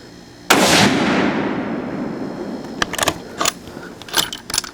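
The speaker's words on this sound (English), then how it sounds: "Shooting for the bottom right target." A single sharp 6.5 Creedmoor rifle shot rings out at a target range, its report trailing off in a long decaying echo, followed by light metallic clicks and rattles of handling.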